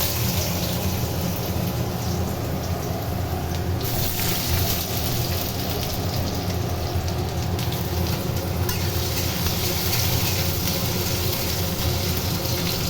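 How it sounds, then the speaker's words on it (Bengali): Potatoes frying in oil in a kadai give a dense, continuous sizzle with a rain-like hiss. It holds steady and fairly loud throughout, with no speech. "কড়াইতে তেল দিয়েছি, এবার এই যে আলুগুলো কাটা ছিল সেগুলো একটু ভেজে নেব।"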